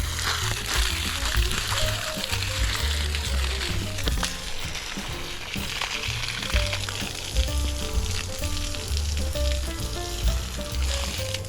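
A Pedrollini 400 W submersible pump discharges water in a strong, continuous hissing gush, close and steady throughout with a faint low hum beneath.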